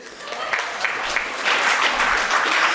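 Audience clapping at a literary festival hall, a steady wash of applause that swells slightly toward the end, moderately loud with no one speaking.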